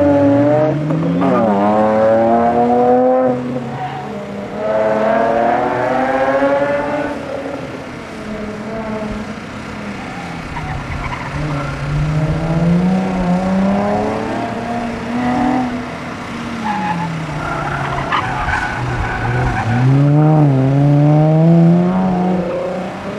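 An Infiniti G35 Coupe at an autocross event, its engine loud and close, repeatedly revving up and easing off through the course with a continuous rising and falling drone.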